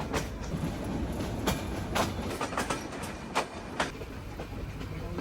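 A train rolls along with a steady rumbling roar, broken by sharp clicks and clacks of wheels over rail joints, close and fairly loud.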